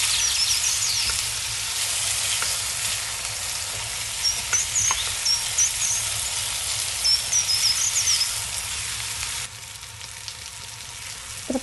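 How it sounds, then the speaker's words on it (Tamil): Chopped tomatoes with salt sauté in a pan for Tamil tomato thokku, giving a steady soft sizzle with occasional faint crackles and light stirring, no voices present, with the sizzle thinning slightly near the end. "இப்போ இது கொஞ்சம் நேரம் நல்லா வதங்கட்டும்"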